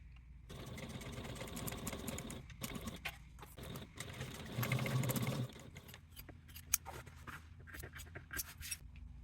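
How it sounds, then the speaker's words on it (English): A home sewing machine stitching handbag seams along drawn lines, running steadily for several seconds with a louder, denser stretch midway, then stopping into quieter handling clicks and rustles. "take this to the machine and you want to sew following the lines you drew"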